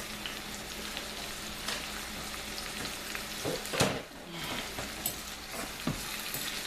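Seasoning being stirred into ackee with Scotch bonnet pepper in a hot pan, a steady close sizzle of frying running throughout, broken by several louder scraping stirs of the spoon.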